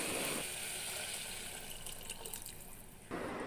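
Water pours steadily from a vessel into a pot of sautéed vegetables for vegetable biryani in a home kitchen, a close, continuous splashing stream lasting a few seconds with no talking.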